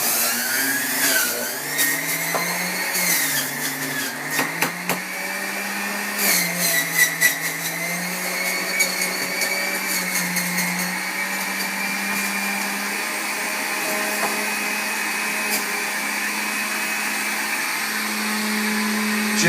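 A motorized juicer whirs steadily while processing celery and cucumber for green juice, a loud continuous motor drone with shifting pitch as produce is fed in, running for the whole stretch without talk.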